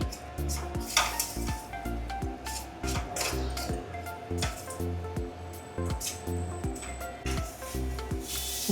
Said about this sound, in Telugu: ఉప్పు కారం వేసిన తర్వాత కూడా ఒక ఫైవ్ మినిట్స్ ఇట్లా మనం మంచిగా ఫ్రై చేసుకుంటే